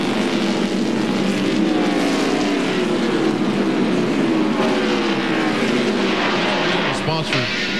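NASCAR Winston Cup race cars roar around the track at the 1999 Goody's Body Pain 500. A continuous, dense engine roar carries falling, sweeping tones as cars pass close by.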